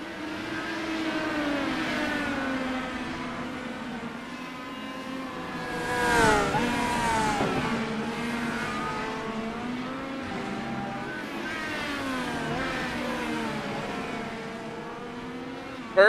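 IndyCar race cars in the iRacing sim at the New Hampshire road course, a continuous high-pitched engine whine that rises and falls with revving and gear changes, close and steady, with no talk over it.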